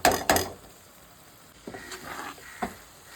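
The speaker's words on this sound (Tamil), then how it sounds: "நம்ம வீட்டில் அரைச்ச மிளகாத்தூளும் கொஞ்சம் காஷ்மீரி மிளகாத்தூளையும் ஆட் பண்ணி நல்லா அடிப்பிடிக்க விடாமல் நல்லா கிண்டி எடுத்துக்கோங்க" Chili powder masala for mango pickle is stirred in a hot pan with a soft sizzle, with a few quick scraping strokes near the start and later, and no talking.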